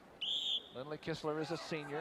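A referee's whistle at a 1986 college wrestling match between Iowa State and Iowa, one short shrill blast up close before a commentator starts talking over it.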